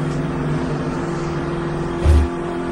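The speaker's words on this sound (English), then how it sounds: "trying to secure the back end of that race car just a little bit more, Bill" NASCAR Cup race cars at the 2007 Citizens Bank 400 roar steadily on the track, a dense engine drone with one brief louder low surge near the end as a car passes close.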